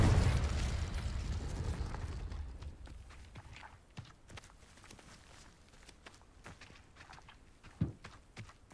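Spell blasts from Hogwarts Legacy gameplay: a loud, broad explosive burst at the start that fades into a rumbling tail, followed by scattered sharp magical pops and cracks, one strong hit near the end.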